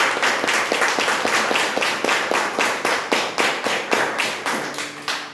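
A church congregation claps in unison after a Bible reading, a loud, steady rhythmic beat of sharp claps repeating about three times a second, close and without talk.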